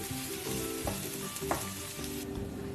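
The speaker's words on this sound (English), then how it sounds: "Now our garlic has almost turned brown, so we will add the onions." Garlic and onions sizzle steadily in a hot pan, a continuous close hiss with faint clinks of stirring throughout and no speech.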